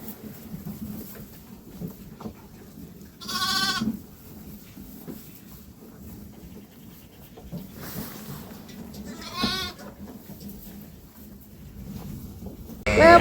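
Lambs and ewes bleat inside a shed, with a few loud wavering cries standing out over a low murmur of shuffling and movement, and a voice speaking softly at times.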